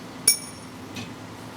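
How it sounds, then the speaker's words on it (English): A timekeeper at a debate competition strikes a glass, giving one bright, ringing clink followed by a much fainter second tap, alone in a quiet room. "he will sound the glass again"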